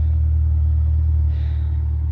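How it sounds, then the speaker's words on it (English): A car rolls slowly out of a home garage with its front bumper removed, giving a steady low engine rumble that stays close and even throughout, with no talking. "Got the car out of the garage."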